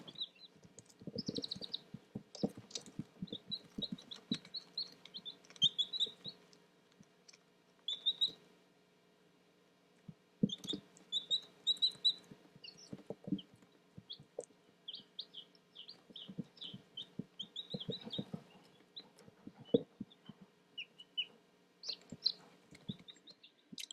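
Newly hatched baby chicks peep in quick, high, scattered bursts, close and fairly faint, with soft rustling and bumps between the chirps.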